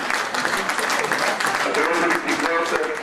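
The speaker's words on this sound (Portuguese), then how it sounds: "Salve as palmas para o Luís," Crowd applause for Luís at a football club prize ceremony, steady and sustained clapping from many people, with voices talking underneath throughout.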